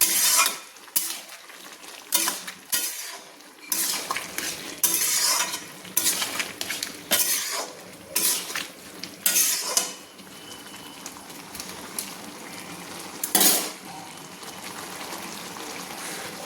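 A spoon stirs fried prawns with Malabar spinach in a pan, giving a repeated scraping and clinking against the metal with a light sizzle underneath, up close and steady, broken by louder scrapes and no talking.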